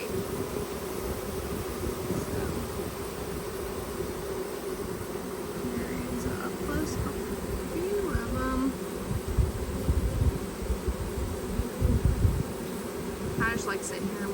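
Honeybees at a newly set up backyard hive, fanning at the entrance, make a steady close insect drone with some wing-whine bursts, joined by occasional faint chirps and talk in the background.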